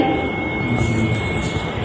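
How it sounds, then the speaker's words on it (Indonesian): Continuous rumble and rolling clatter of a moving train at steady speed, close and fairly loud, with a thin high whine above it and no voices. "Kereta api bergerak."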